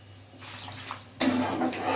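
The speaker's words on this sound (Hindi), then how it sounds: "हम पानी डालेंगे इसमें।" Water pours into a cooking pan of vegetables in a steady rush, starting faintly and then growing louder and splashier partway through, close by with no talking.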